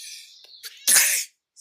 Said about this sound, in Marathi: मला सर्दी आहे म्हणून शिंकत आहे